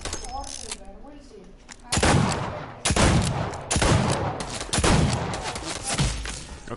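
Gunshots in Fortnite crack out in about five loud, sharp reports spaced roughly a second apart, each with a ringing tail, after a quieter opening with faint voice.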